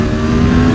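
A 2018 Aprilia Tuono 1100 Factory motorcycle with extensive engine work revs hard, a loud, close, sustained engine note held near its limiter.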